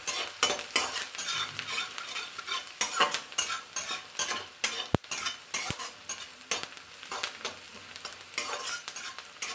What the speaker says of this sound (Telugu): green chilli, onions, spring onions వేసి మంచిగా ఫ్రై చేసుకోవాలి